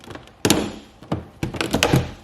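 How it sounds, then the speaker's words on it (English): BMW G30/F90 trim clips are pulled off with needle nose pliers, making a few sharp plastic thunks and clicks, close and distinct, with brief gaps between them. "You grab your needle nose pliers and just simply pull the clips"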